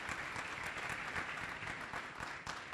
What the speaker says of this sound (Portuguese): gostaria de dar uma salva de palmas para esses dois empreendedores